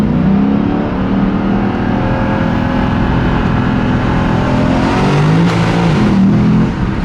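Lexus RC-F Track Edition V8 engine revving and pulling hard, a loud sustained roar with rising pitch and a brief shift near the end, heard alone without talking.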